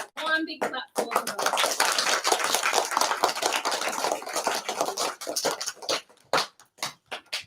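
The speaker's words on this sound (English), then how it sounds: "one big clap for them" Applause at a school awards assembly, a single big round of clapping from many students, loud and dense at first, then thinning into scattered separate claps toward the end, with some talk underneath.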